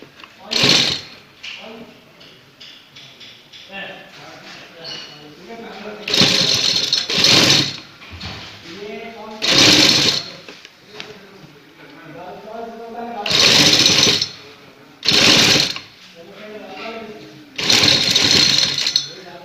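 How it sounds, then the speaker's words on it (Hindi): A sewing machine stitches contrasting lace onto the edge of a black neckline in repeated loud bursts a second or two long, alternating with stretches of a person talking. "कोने पे रख के सिलाई लगाएंगे बिल्कुल किनारे के ऊपर।"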